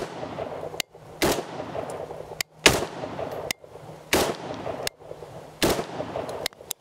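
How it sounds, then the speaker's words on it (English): Loud rifle shots of M193 rounds fired into a tree, five sharp cracks at roughly even intervals of about 1.4 seconds, each followed by a brief echoing decay over outdoor background noise, with no talking. "I'm gonna shoot one kind of center mass and then one on the edge of the tree"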